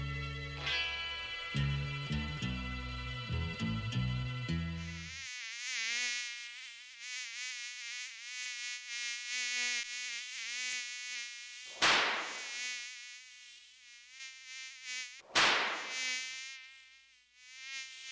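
Mosquitoes buzzing in Campo Verde, Cariacica, a thin sustained whine after an opening stretch of dense low music, with two sharp loud hits partway through.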